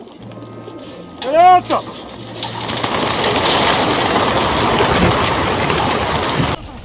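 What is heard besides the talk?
homing pigeons cooing and flapping at race release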